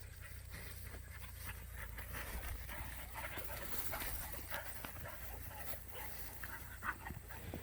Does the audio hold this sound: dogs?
yes